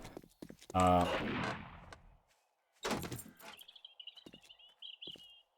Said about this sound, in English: I just heard shotgun blast